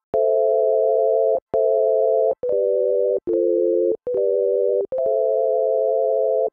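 A synthesizer tone pitched an octave up with drift added plays as a run of six sustained notes, each slightly wavering in pitch, separated by brief clicky gaps, steady and loud with no voice.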